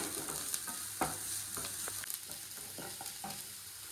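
Sliced onion and leftover fried sardine masala being stirred in a hot pan: a steady oily sizzle with repeated scraping strokes of a spoon against the pan, close and moderately loud, with no talking.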